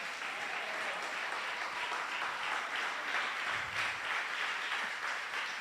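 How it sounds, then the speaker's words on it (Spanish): A church congregation applauding loudly for the King during a Spanish-language sermon, a steady, even roar of clapping sustained throughout at a distance. "dele el aplauso fuerte al Rey que vive"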